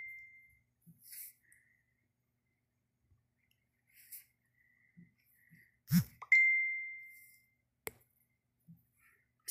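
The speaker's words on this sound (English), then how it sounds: "Excuse my Facebook chiming." A Facebook notification chime on a BLU Vivo XI+ phone, a short bright tone among scattered soft clicks and taps, with one louder sustained ding in the middle and brief tick-like sounds around it.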